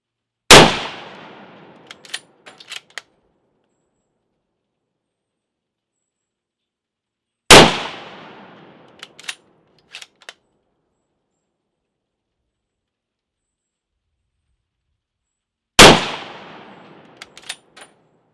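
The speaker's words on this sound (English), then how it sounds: "let you see some video of us shooting it" Three loud, sharp Madsen M47 rifle shots with a muzzle brake fire at long, even intervals, each blast decaying quickly and followed by faint metallic clinks of the bolt cycling and casings, silence between.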